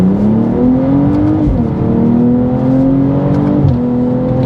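A tuned 450 bhp BMW M240i xDrive accelerates hard on an open road, its engine note climbing steadily through the revs and dropping briefly at each gear change, loud and continuous with no talk.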